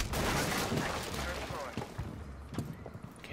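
Gunfire from the Rainbow Six Siege video game, a dense continuous barrage with scattered sharper shots near and far, mixed with other game noise and a voice talking over it.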